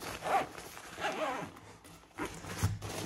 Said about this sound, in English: You just gotta zip it.